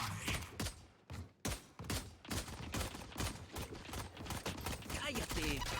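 Rapid bursts of gunfire in a shooter video game, a dense run of sharp repeated shots close up and loud, with voices talking over parts of it.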